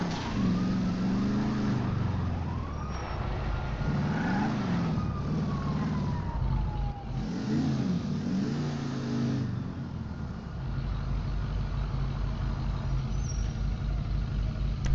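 A police siren wails over a roaring car engine during a chase in the video game GTA V. The siren's rising and falling tone sounds loud and continuous throughout.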